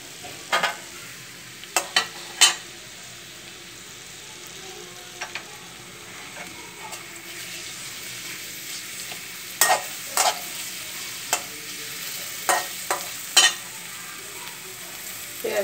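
Onions frying in oil in a wok-style pan, a steady close sizzle with intermittent scraping stirs of a utensil against the metal, clusters of clinks spread through, no talking.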